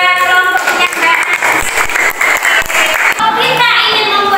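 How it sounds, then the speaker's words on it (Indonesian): A group in a workshop applauds another group, clapping loud and close with voices and musical tones mixed in across the whole stretch. "tepuk tangan buat kelompoknya"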